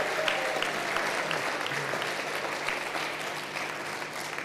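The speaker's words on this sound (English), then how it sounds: "So let's give them all a big round of applause." A large audience applauds at a New Hampshire Democratic Party state convention, with sustained, even clapping that fills the room from start to finish.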